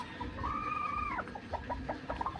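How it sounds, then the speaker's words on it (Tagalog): A farmyard chicken clucks in short, close bursts after a drawn-out call, with the hen's choppy calls repeating quietly over faint outdoor background noise. "Ayun, may mga manok dito si Bapa."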